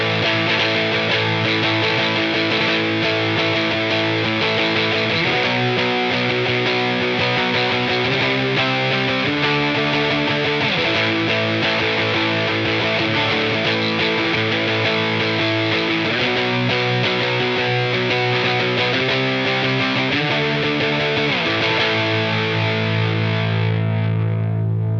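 A Telecaster electric guitar plays through a budget drive pedal with the gain turned all the way up, giving a thick, distorted chord riff that changes in steady sections and stays loud and close without any talking.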